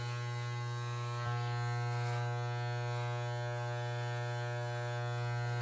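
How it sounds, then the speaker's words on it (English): Steady electric beard trimmer buzz, close and constant, with a strong low hum and even tone running throughout during a self-trim of the neckline. "I usually use a beard trimmer for the actual neck"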